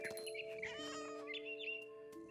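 A cat meows and caterwauls in the video game What Remains of Edith Finch, with several drawn-out, wavering cries over sustained musical tones and other game sounds.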